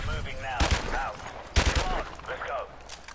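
Video game gunfire bursts in two loud clusters, the first around a half second in and the second near the middle, with voices talking over and between the shots.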